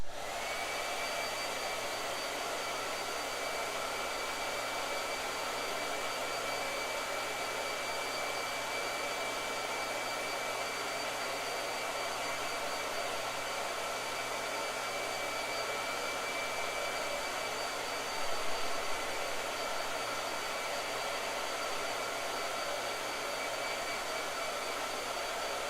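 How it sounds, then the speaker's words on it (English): A hair dryer blows steadily on a wet painting of Annie Lennox, a loud, close, continuous whooshing roar with a faint steady whine, holding unchanged throughout without speech. "I need to blow dry"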